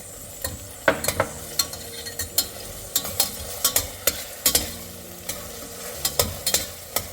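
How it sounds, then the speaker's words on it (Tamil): Large onion, curry leaves, green chili and ginger garlic sauté in a pan with a low steady sizzle, broken by frequent sharp clacks of a spatula against the metal; no voices. "நல்லா அதை வதக்கி விட்டுட்டு"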